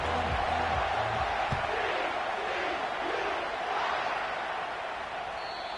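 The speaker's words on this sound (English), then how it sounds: "This crowd bringing an ear-splitting welcome to their visitors." A stadium crowd in EA Sports College Football roars at kickoff against the TCU Horned Frogs, a loud, sustained wash of cheering that fills the whole stretch, with a faint voice underneath.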